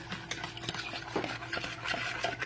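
A spoon stirring flour gravy for turkey wings in a pot, scraping and clinking in quick irregular strokes with a faint simmer underneath, close and alone with no voices.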